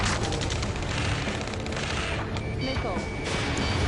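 Dense gunfire in the Ace Combat 7 combat mission, a continuous loud barrage of bursts and booms with voices shouting over the noise throughout.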